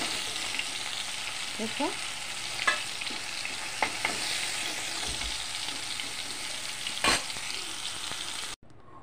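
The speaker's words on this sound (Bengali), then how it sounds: "দেখো সবগুলি চিকেন ভেজে নিয়েছি।" Pieces of chicken sizzle and crackle steadily in a hot pan for butter chicken, with occasional scraping stirs and soft clinks, a brief voice at the start and the sound cutting off abruptly near the end.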